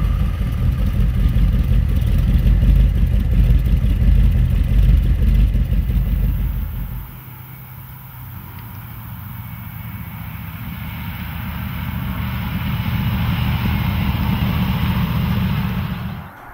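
Chrysler 5.6-litre V8 engine in the 1973 Monica 560 prototype, a deep rumbling roar that cuts off abruptly, then a quieter engine or road noise swells back up, loud and close with no talking.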